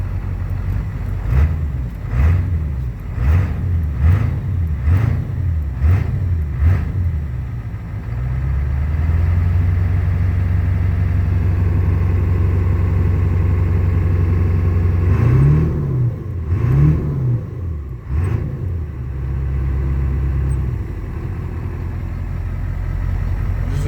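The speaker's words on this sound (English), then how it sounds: "Good old work truck." A 1994 Ford work truck's 7.3 Powerstroke diesel engine runs up close, revved repeatedly in rhythmic bursts, settling into a steady idle, then revved several more times before idling again, with no speech.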